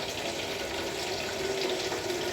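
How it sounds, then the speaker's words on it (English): Steady rush of tap water pouring into a bucket during tub cleaning, a continuous close hiss with no talk over it. "now this is the part with the water right here. I have to fill this bucket up"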